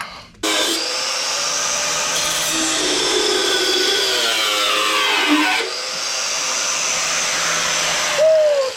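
An angle grinder or similar power tool cuts steel on an NC Mazda Miata during a 2.5L engine swap, a loud continuous high whine that shifts pitch as the blade bites, briefly pausing mid-cut.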